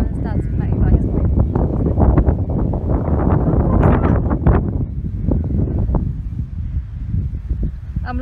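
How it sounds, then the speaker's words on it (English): Gusty wind buffets the microphone outdoors beside a small dam on a breezy day, a loud continuous rumble that persists throughout, with someone talking over it. "I don't think I'm going to be able to hear, to be honest, because it's really windy."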